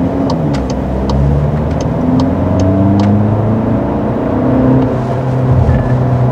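A Volkswagen Passat sedan accelerates hard during an acceleration test, its engine note rising steadily and holding loud and close from the cabin for several seconds, with no talk.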